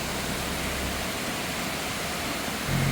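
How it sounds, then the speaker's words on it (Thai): A steady, broadband rush of falling water from Huai Mae Khamin waterfall in a Kanchanaburi forest fills the air, constant and fairly loud, with no voices. "เอาเสียงน้ำตกธรรมชาติมาให้ฟังด้วยนะคะ"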